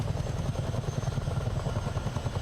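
A Miltech CH-47 Chinook helicopter flies low up the Potomac River in Microsoft Flight Simulator. Its rotors make a dense, steady, rhythmic chopping thump over a loud turbine drone, with no speech over it.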